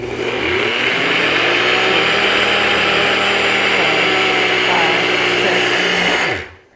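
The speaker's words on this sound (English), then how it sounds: "Now I'm going to show you how to grind your own oat flour, and I'm using my NutriBullet" A NutriBullet blender grinds oats into flour, a loud continuous whirring roar that runs steadily for about six seconds, then cuts off abruptly and winds down.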